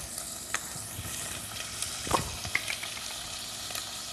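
Garlic dropped into a hot pan sizzles softly alongside shallots, a quiet steady frying hiss with a few brief clatters of stirring.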